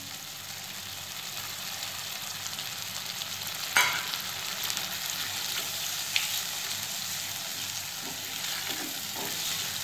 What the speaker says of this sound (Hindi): उस हिसाब से फिर थोड़ा सा दूध मिला लेते हैं।